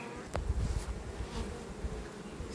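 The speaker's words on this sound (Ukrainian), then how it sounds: "Так бджолки активно" Honey bees buzz densely around an open hive in summer heat while a beekeeper replaces queens, a steady close swarm drone with occasional individual bees passing near.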